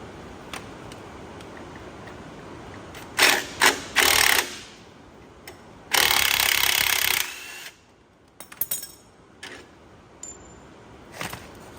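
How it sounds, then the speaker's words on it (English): Hand tools working on the front-end steering stabilizer of a 2006 Dodge Ram diesel, an 18mm wrench and 15mm socket, giving scattered metallic clicks and ratcheting bursts with a couple of longer loud spells between quieter gaps. "We got an 18mm wrench we're going to put on one side"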